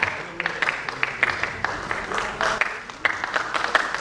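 Applause at a folk dance awards finale, with brisk, uneven clapping from a modest crowd, individual sharp claps standing out over a steady patter.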